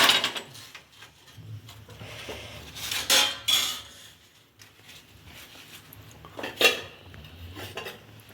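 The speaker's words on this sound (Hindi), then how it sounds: "मैं चम्मच से अचार कर लेती हूँ प्लेट में।" A spoon serving pickle onto a plate clinks and scrapes against the dishware in a few sharp metallic bursts, with quieter handling sounds between them.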